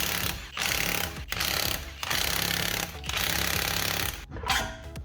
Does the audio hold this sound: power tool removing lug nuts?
yes